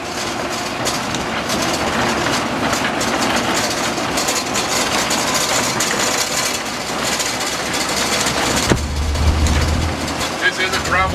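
A 1963 Land Rover Series 2a engine pulls in second gear on a gravel road, a loud, steady droning rumble with road noise throughout.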